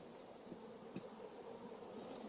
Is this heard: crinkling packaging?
no